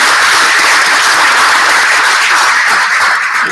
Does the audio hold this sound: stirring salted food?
no